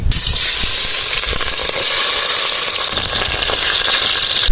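Onions hit hot oil in a large pot over an outdoor fire for chana pulao, a loud, dense hissing sizzle that stays steady throughout with occasional bubbling crackles beneath.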